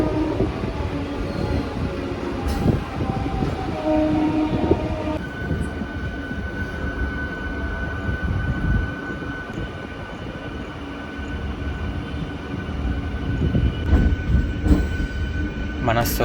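Special passenger train no. 67769 from Vijayawada to Guntur rumbles steadily along the track, heard from on board as a loud, continuous roll with occasional faint background voices.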